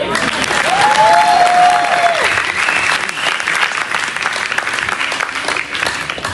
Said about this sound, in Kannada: ಮಾತಾಡುವ ಈ ಪುಟ್ಟ ಹುಡುಗಿಗೆ ಜೋರಾಗಿ ಚಪ್ಪಾಳೆ ಕೊಡಿ